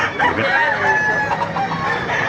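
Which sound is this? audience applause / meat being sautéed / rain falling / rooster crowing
rooster crowing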